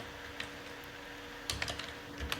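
Code being typed on a computer keyboard, with a few isolated key taps followed by a quick burst of clicking keystrokes, close and fairly quiet, with no talk.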